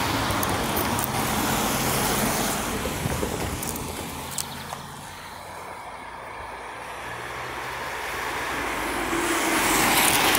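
Road traffic rumbles steadily near an S-Bahn route, with broadband vehicle noise that eases midway and then swells again as more vehicles pass close by.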